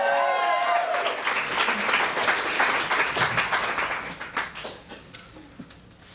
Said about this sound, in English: Round of applause for Adam Faulkner on the piano,